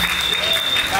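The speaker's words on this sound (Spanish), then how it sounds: "¡Aplauso!" Brief burst of audience applause at a ballroom kiki ball, dense steady clapping at moderate loudness with crowd voices blended in.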